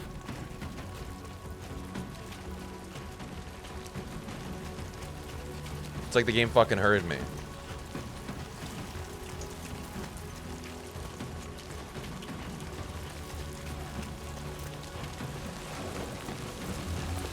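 Steady rain falls with a low rumble of thunder in the video game Death Stranding 2, a continuous wash of patter under a man's chatter, with a brief louder burst of speech partway through.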